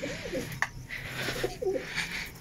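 Soft, low pigeon coos repeat a few times nearby, quiet and muffled against faint background noise.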